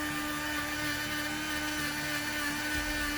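A small power sanding machine works on white TCX EVO 2 dirt bike boots, giving a steady, high-pitched motor whine with a constant drone and a faint gritty sanding texture close by, with no pauses.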